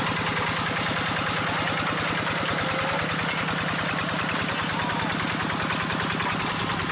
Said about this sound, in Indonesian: Jadi di sini traktor Quick G1000 bisa dikombinasi dengan diesel RD85DI1S